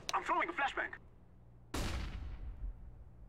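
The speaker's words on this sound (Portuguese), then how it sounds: "I'm throwing a flashbang." A flashbang grenade goes off in Counter-Strike on the Mirage map, one sharp loud bang fading into a decaying rumble and hiss, right after a short burst of voices.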